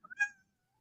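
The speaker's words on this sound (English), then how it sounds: "Hey, kitty cat." A cat gives one short, close meow, rising quickly and fading within half a second, followed by silence.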